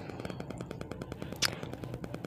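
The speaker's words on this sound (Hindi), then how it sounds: "पटाखों की आवाज़ से गूंज रहा संसार" Diwali firecrackers burst in a dense, rapid crackling barrage, rattling continuously like gunfire, with one sharper, louder pop standing out near the middle.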